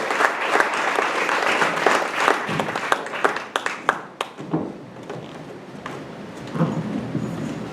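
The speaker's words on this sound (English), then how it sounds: "Give her a big round of applause" Enthusiastic crowd applause for a performer at an arts center evening show fills the room, loud at first with scattered individual claps, then thinning out and fading toward the end.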